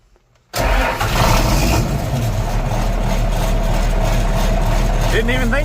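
A John Deere 4430 tractor engine with its block heater on cranks and catches in an ice storm, then settles into a loud, close, rumbling idle; a voice is briefly heard over it near the end.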